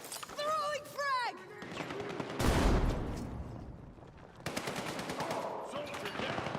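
Battlefield 6 gunfire in bursts and a heavy blast, loud and close, with shouted voices and chatter between the volleys.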